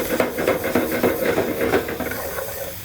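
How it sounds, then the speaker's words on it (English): Bacon rendering down in a pan for stuffed peppers made with leftover pulled pork gives a steady close hiss and sizzle with faint pulsing crackle throughout, and no voices. "So we're rendering down the bacon."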